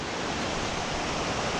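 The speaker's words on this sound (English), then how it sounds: "The creek is coming down here, or this spring, and it's flowing down the trail." Spring creek water running down a hiking path on the Pacific Crest Trail near Jefferson Park, a steady close-up rush and trickle that holds even and continuous throughout with no voices.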